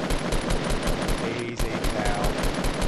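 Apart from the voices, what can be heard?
gunfire in the video game Fortnite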